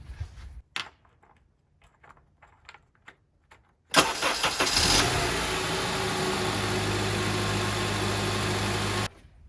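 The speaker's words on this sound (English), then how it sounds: "We can't totally check the oil level until we start the car and let the oil run through the motor block" A 2007 Honda Accord engine cranks and catches after some faint clicks, then settles into a steady, loud idle that runs for several seconds before cutting off.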